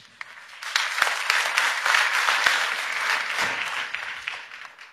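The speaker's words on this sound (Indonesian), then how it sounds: "Tepuk tangannya kok agak fales ya." A church congregation at a Sunday service in Surabaya breaks into steady, dense applause, with a few sharper claps standing out as the clapping holds at an even level throughout.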